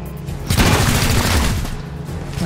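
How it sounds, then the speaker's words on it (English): Grenade blasts in the XCOM Chimera Squad video game, a dense burst of booming explosions with rattling debris that swells in and sustains loudly before tapering off. "Grenades."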